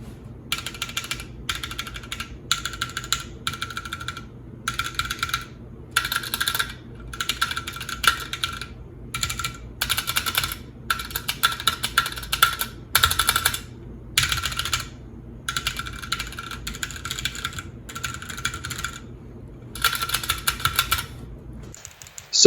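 Red mechanical key switches on a Gamo2 K28 rhythm-game keyboard controller are pressed in quick bursts of crisp clicky clacks, close and fairly loud, with brief pauses between runs and no talking.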